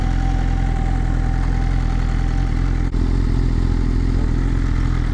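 A BMW S1000RR sport motorcycle sits idling, its engine holding a steady, even, close-up rumble throughout with no change in pace.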